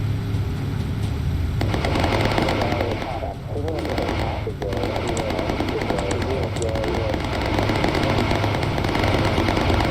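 Bomber gunners in the game Bomber Crew open up on attacking fighters, dense continuous machine-gun fire over a constant droning aircraft engine, loud and steady throughout.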